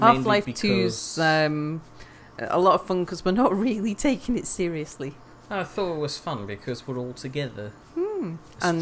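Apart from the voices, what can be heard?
No distinct noise like a dog, phone or traffic.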